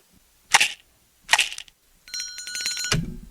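A telephone ring bursts out in a quiet room in an old radio drama, a rapid metallic bell trill lasting almost a second and ending abruptly, heard alone and close.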